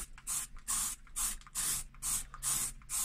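Spray paint hisses onto a car steering wheel held away from the body in about eight short bursts, each lasting a fraction of a second, loud and close, with no talk.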